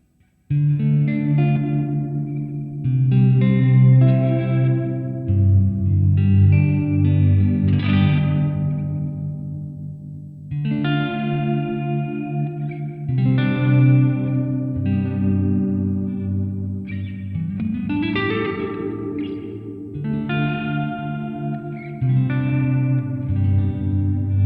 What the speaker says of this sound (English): a reverb with liquid-like decays and deep low ends